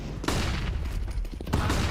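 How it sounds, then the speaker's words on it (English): Grenade blasts and gunfire in a CS:GO professional match, dense overlapping bursts with a couple of sharper explosive hits, loud and continuous throughout. "Oh, more nade work from Astralis."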